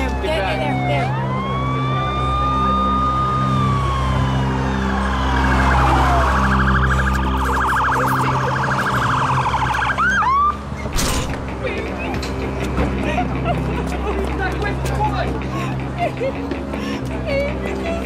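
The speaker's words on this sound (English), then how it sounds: "Where's the ambulance? It's coming." An ambulance siren wails in rising and falling sweeps during a tense drama scene, loud and close, mixed with creaking mechanical noises and people talking over it before it cuts off abruptly partway through.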